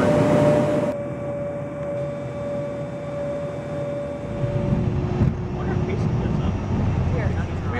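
Airplane cabin noise during landing: a steady broadband engine and air roar that shifts partway through as the aircraft slows. The noise is continuous and fairly loud throughout.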